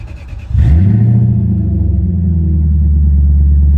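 Cold start of a 2003 Lexus GS430 V8 engine: after a quiet moment the starter catches, the engine fires loudly and settles into a strong, steady high idle rumble up close.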